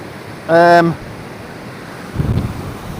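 Fast-flowing Highland burn rushing through winter terrain in Knoydart, a steady close wash of water noise that runs throughout, broken early by a short high tonal beep and a louder surge of low rumble near the end.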